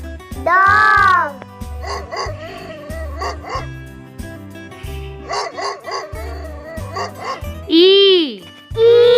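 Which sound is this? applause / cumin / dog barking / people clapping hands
dog barking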